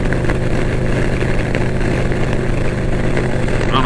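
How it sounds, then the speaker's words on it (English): Wind buffets behind the windshield of a motorcycle at cruising speed, a loud, constant roar and rumble under the engine drone with no breaks. "the buffeting is not as bad"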